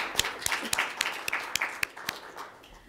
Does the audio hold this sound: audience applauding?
yes